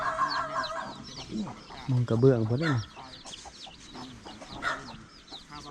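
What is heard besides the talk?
chickens clucking at a chicken coop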